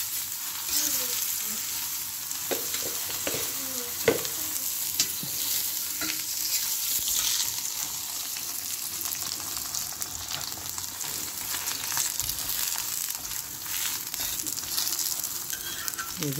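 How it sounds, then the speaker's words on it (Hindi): Paratha sizzling in ghee on a hot tawa, a steady crackling fry running throughout with occasional sharper pops and scraping touches, fairly close and even in level. "और अभी मैं इसको घी लगाऊंगी ऐसे करके"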